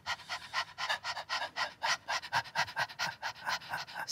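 Rapid, rhythmic panting in short breathy puffs, imitating a little dog as a singing breath exercise in a vocal lesson, a steady run of about twenty quick in-out breaths, close and fairly loud.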